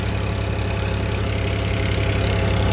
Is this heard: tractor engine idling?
yes